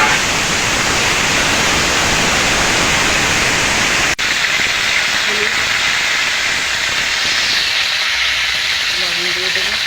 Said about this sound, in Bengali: মেটে আলুগুলো দিয়ে দেবো।